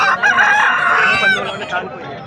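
A white rooster crows loudly and close by at a poultry market in Vijayawada, one long strained cock-a-doodle-doo that trails off near the end.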